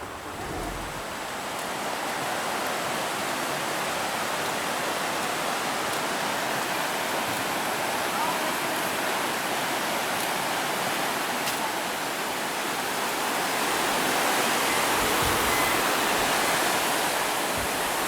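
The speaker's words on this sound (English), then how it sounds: "This is the Toxaway River" Steady broadband rush of the Toxaway River flowing down toward Lake Jocassee in Oconee County, South Carolina, a continuous, fairly loud churning water sound with no voices, swelling slightly near the end.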